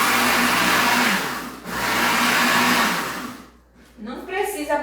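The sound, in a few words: blender mixing bread cake ingredients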